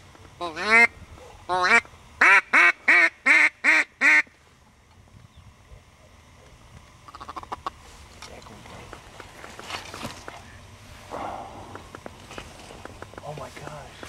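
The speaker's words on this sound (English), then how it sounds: "Hear the chat, hear the feed call. Yeah, they're chattering back at us." Ducks quacking out in the field on a duck hunt: a burst of seven loud, close, rhythmic quacks, then softer scattered chattering and rustling with people talking quietly.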